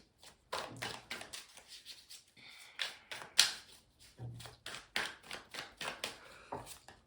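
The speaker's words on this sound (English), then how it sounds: "So I'm going to add cards under the ones that are here." Tarot cards are laid down one after another on a table, making soft slaps and taps in an uneven rhythm, quiet and close.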